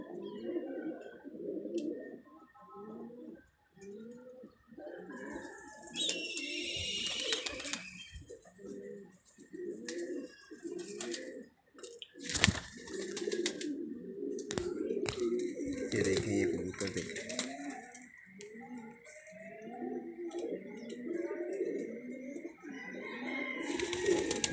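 Pigeons coo steadily in a repeated, rhythmic low warble, close by, with a few wing flutters and a person talking at times.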